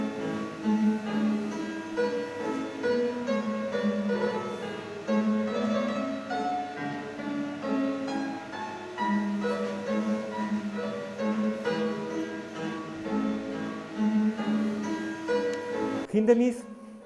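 A Haydn palindrome minuet, with its trio, played on piano in a steady flowing texture of melody over bass, continuous for about sixteen seconds at moderate volume, with no talking.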